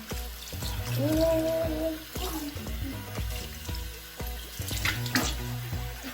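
Tap water runs steadily into a sink while a child washes their hands, with continuous splashing and a few soft knocks and brief voice-like sounds mixed in.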